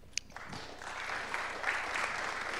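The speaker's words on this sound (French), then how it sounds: "on t'applaudit à nouveau" Audience applause at a French pitch event, a steady patter of many hands clapping for a couple of seconds, moderately near, with no speech over it.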